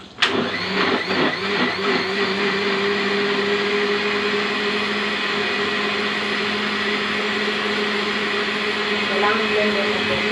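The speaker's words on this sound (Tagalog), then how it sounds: "At ito na po. I-blender natin. Blender natin siya." A blender starts with a sharp jolt and settles into a loud, steady motor whir as it purees cooked saluyot (jute leaves), running continuously and close up.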